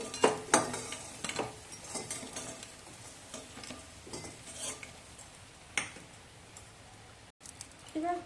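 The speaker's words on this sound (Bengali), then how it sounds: "এবার ডালের বড়াটা ভেজে বের করে নেবো" Lentil fritters frying in hot oil for a Bengali green papaya dish, a soft sizzle broken by irregular scraping and clinks of a utensil against the pan, with faint speech now and then.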